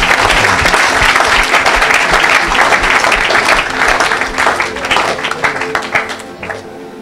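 A church congregation at a deliverance service applauds loudly and continuously, with dense sustained clapping from a large crowd close by that tapers slightly at the end.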